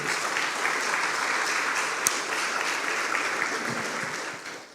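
A church congregation applauds Jesus during a sermon, a dense, steady wash of clapping from many hands that fills the room and fades out at the end.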